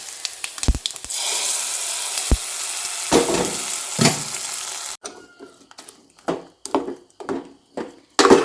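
Hot oil tempering is poured into a mashed cassava, yam and plantain dish, giving a loud frying sizzle for about five seconds that cuts off into scattered spoon clinks and stirring sounds.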